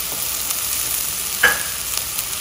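Chopped onion hitting a hot pan for rice soup with vegetables, a steady close sizzle with one brief clink in the middle, no talk.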